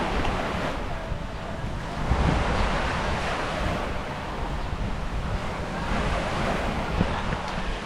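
Surf washes steadily onto Alona Beach on Panglao Island in the Philippines, a continuous broadband roar of waves with some wind buffeting the microphone, swelling slightly at moments and heard alone without voices.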